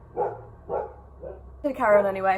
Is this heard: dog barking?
yes